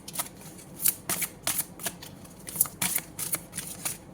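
Playing cards shuffled for a card reading, a series of quick riffling bursts in an uneven rhythm, close and fairly loud with no talk.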